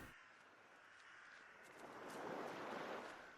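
Sea waves in the video game The Last Door, a soft, steady wash of surf that swells gently toward the end, faint and alone.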